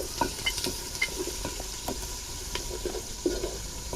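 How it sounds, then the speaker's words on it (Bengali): Onions sizzle in a pan with a little salt, a continuous close crackling fry broken by light stirring scrapes and pops. "পেঁয়াজটা যাতে তাড়াতাড়ি ভাজা হবে।"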